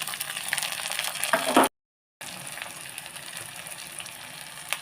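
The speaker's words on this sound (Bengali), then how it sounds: "হালকা পেঁয়াজটা একটু ভাজা হয়ে এলেই" Onions sizzle steadily in a pan for paneer bhurji, a close, continuous frying crackle that cuts out briefly partway through, with no one talking.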